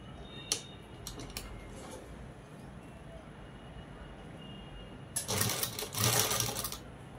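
Sewing machine stitching the neckline of a ready-made dress during a repair, a sharp isolated tick early on, then a dense, loud run of rapid stitching near the end.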